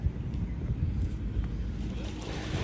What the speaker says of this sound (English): Got a pretty windy day here today